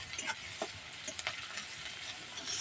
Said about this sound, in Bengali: এবার তেল, এই ঘিটার সাথে পেঁয়াজটা একটু হালকা হালকা করে ভেজে নেবো।